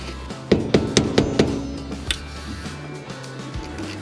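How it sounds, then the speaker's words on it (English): A rapid run of five sharp metallic taps, evenly spaced, then a single louder clink, up close in a quiet room: a hammer tapping a flathead screwdriver against an output shaft seal on a T10 transmission. "we're going to use a flathead screwdriver and a hammer and cross our fingers"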